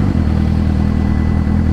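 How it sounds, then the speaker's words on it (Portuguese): Many motorcycle engines at a crowded rally, one of them a Suzuki SRAD 750 without mirrors: a loud, dense, continuous engine rumble and clatter, steady and close throughout. "Nossa, tem um monte de moto ali"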